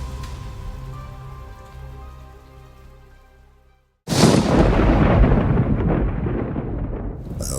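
A thunderstorm downpour surges in abruptly after a quiet musical passage, becoming a loud, dense, steady hiss of heavy rain with a low rumble underneath.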